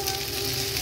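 Rice tipped into a pan of frying vegetables for fried rice sets off a loud, steady sizzle, brief and close with no voices.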